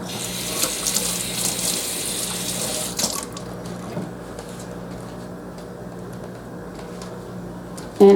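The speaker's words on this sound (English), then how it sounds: "I'm going to rinse this off." Kitchen tap runs while something is rinsed off under it, a steady close gush of water that softens partway through and ends with a brief knock.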